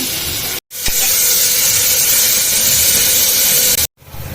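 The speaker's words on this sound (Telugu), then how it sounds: "డైరెక్ట్గా ఆయిల్లో ఫస్ట్ అయితే ఉల్లిపాయ వేసుకున్నా" Onions dropped straight into hot oil give a loud, steady close-up sizzle and hiss that runs almost the whole time, cut off briefly twice.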